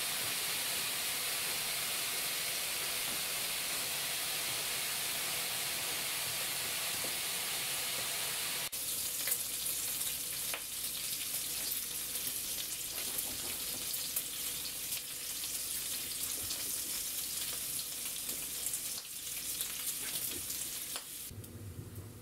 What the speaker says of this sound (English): And this is what you have while you're cooking bacon, always down and below.